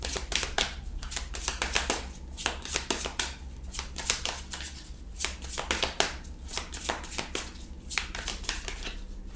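Tarot cards being shuffled by hand in a steady run of crisp riffling and flicking bursts, close and fairly loud over a low background hum, with no talking.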